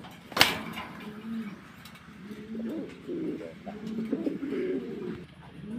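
Pigeons coo softly and repeatedly in a loft, low, rolling calls close by, opened by a sharp brief knock.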